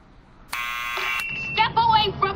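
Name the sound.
door buzzer ringing in Back to the Future video game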